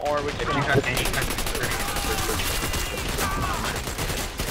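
Shotgun blasts and rapid gunfire in the online shooter Dirty Bomb come as sharp, repeated bursts over a busy game soundscape, with a player talking over the action.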